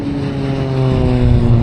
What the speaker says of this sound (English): Do you think that plane even saw me?